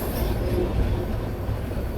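A passenger train rolls into Akola railway station, a steady loud rumble of wheels and carriages with no break, heard from on board.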